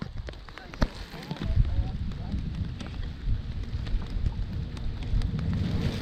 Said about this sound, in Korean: 비가 점점 더 거세게 오네